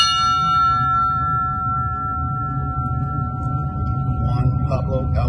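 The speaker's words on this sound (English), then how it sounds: "A bell was sounded for those Weehawken residents who perished." A memorial bell sounded at a Weehawken 9/11 remembrance gives a single loud strike, then a long, steady tone rings on and slowly fades above a low hum of ambient noise.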